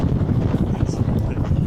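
Strong wind gusting across the black sand beach at Vik in southern Iceland, a steady loud roar of buffeting microphone noise throughout with no clear voices.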